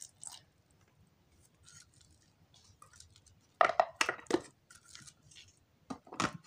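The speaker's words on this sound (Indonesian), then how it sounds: "Kita chopper sebentar ya." Electric food chopper blitzing chili peppers with a little water, heard as a few loud whirring bursts in the second half after quieter clatter, close and without talk.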